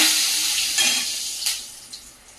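Meat and bay leaf go into hot oil with cloves, cardamom and cinnamon, giving a bright, loud hiss of frying that fades slowly, with a couple of soft splashes and stirring sounds.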